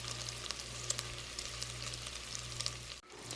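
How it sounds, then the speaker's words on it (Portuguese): Bacon fries in its own fat in a pan with a steady, close sizzle and scattered crackling pops. A constant low hum runs underneath, and the sizzle cuts off briefly near the end. "vou fritar 150 gramas de bacon na própria gordura."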